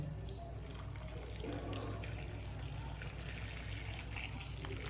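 Water is poured from a glass into a pot of meat for bhindi gosht, a soft, continuous trickle and splash at moderate level with no talking over it.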